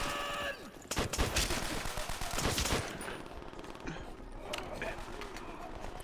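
Heavy bursts of Call of Duty gunfire rattle close and loud through the first three seconds, then give way to scattered shots and a busy game soundscape, with faint voices mixed in.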